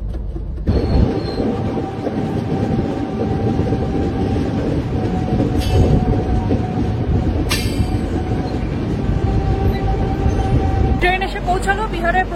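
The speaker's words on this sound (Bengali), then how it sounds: "ট্রেন এসে পৌঁছালো বিহারের প্রথম স্টপেজ গয়া জংশনে" Poorva Express passenger train running from Howrah toward New Delhi via Gaya, a steady loud rumble of wheels and carriages with a few brief squeals and clanks, continuous throughout.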